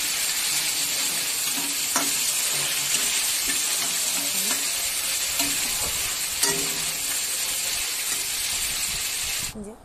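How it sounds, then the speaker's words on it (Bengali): Prawns fry in a pan for chingri malaikari, giving a loud, dense, continuous sizzle and hiss with occasional sharp spatters and stirring clinks, close by and steady until it fades at the very end. "তো এই দেখো চিংড়ি মাছগুলো ভাজা হয়ে এসছে"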